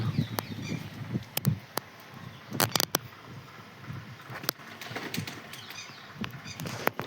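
A pigeon flies in with bursts of wing flapping and sharp clatters against a quiet outdoor background, the flaps coming in uneven clusters up close, with no talking.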